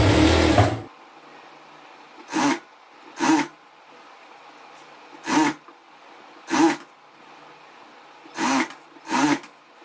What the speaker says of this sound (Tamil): ஸோ ஜஸ்ட்டு 2 கிளாத்தும் ஒன்றா இருக்க மாதிரி வச்சுட்டு தையல் போட்டுக்கோங்க.